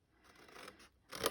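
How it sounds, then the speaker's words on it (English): Scissors snipping off a ribbon end while making a gift box, a couple of quiet close snips with a slightly louder, sharper cut at the end, no talking. "Snip away this end here, and then miter in here."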